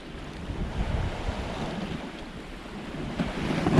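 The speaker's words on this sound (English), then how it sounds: "The wind is starting to come in now." Wind and ocean waves at sea about 50 miles east of Cape Canaveral, Florida, ahead of a cold front, make a steady broadband roar with gusty wind buffeting the microphone and a surging swell that builds toward the end.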